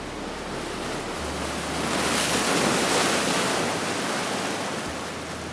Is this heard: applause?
no